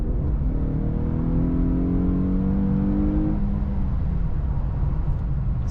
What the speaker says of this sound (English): I'll show you what it's like if I accelerate hard